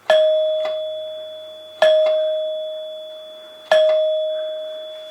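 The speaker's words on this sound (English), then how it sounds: "and we have a single note for the rear door." Three separate rings of the rear-door single note on a restored 1930s NuTone Time Chime solenoid doorbell, each bright strike followed by a long, fading tone, close and alone in silence.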